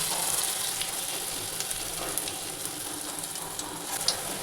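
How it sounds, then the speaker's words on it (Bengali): Lentil fritters (motor dal bora) are spooned into hot oil in a kadai, giving a steady, close, fairly loud frying hiss with small crackles throughout and no talking. "কড়াইতে তেল গরম হয়ে গেছে তারপরে আমি এই বড়াগুলো চামচে করে করে এখানে দিয়ে দিচ্ছি"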